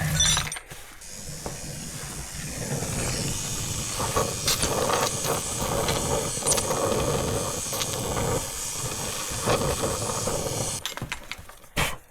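Heat torch hissing steadily against a seized suspension joint on a Mk1 Mazda Miata MX5, a loud continuous close roar-like hiss lasting most of the clip with brief clanks at the start and end.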